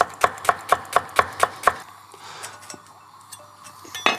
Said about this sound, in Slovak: Fenikel si nakrájame na čo najtenšie prúžky.